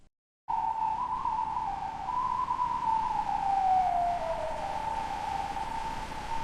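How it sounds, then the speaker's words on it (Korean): An ambulance siren wails steadily after a brief silence, approaching through a narrow alley, its tone sliding slowly downward and back, sounding somewhat distant over a faint hum. "저 멀리서 구급차가 골목을 타고 들어오는 소리가 들렸어요"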